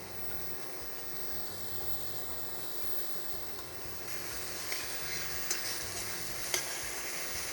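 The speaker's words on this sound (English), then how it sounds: "Allow our ingredients to saute a little bit to kind of bring out the flavor of each seasoning ingredient." Butter with chive, thyme and seasonings sautés in a pan, a soft continuous sizzle that brightens a little partway through, with a few faint clinks, low in level and with no voices.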